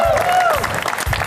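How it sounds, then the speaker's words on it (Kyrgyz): Guests applauding a couple at a wedding celebration, a dense burst of clapping and crowd noise under a voice that carries over it. "Жаңыл жана Асемага бир шатырата кол чаап коюңуздар."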